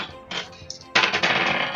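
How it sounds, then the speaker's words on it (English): A gunshot sound effect played during a tabletop role-playing session, a short burst followed by a loud sharp crack with a noisy tail. "A gunshot?"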